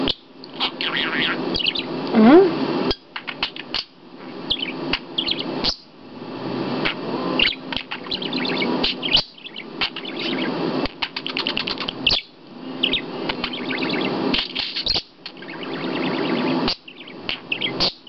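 A pet budgie chatters and chirps continuously at close range, a busy scratchy warble with clicks and brief squeaks filling the space with hardly any pauses.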